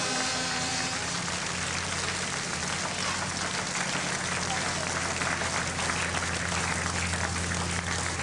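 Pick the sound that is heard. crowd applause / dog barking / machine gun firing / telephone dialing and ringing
crowd applause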